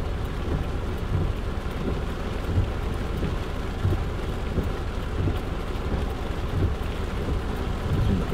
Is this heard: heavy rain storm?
yes